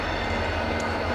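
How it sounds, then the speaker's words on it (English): A train passes close by beside an abandoned old highway, a steady loud rumbling roar with no pauses and no voices. "that train's making a lot of noise"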